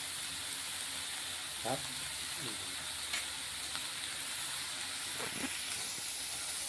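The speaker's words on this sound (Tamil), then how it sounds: "வெங்காயம் பொன்னிறமாக வதக்கட்டும்" Onions sautéing in a pan while being browned for a yam cutlet give a steady, soft hiss of frying throughout, with a few faint clatters over the continuous sizzle.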